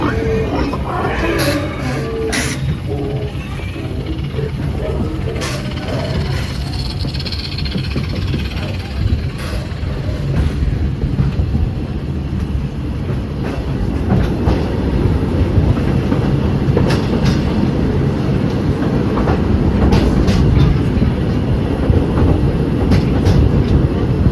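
A Walt Disney World Railroad train in Magic Kingdom rumbles and rattles continuously for over twenty seconds, loud and close with rhythmic clatter, while a voice speaks over it at times.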